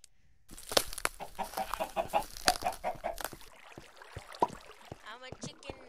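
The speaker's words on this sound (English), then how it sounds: "I'm a chicken now." A chicken in the Minecraft Crazy Craft video game clucks in a string of short, uneven calls, with a voice talking over the top.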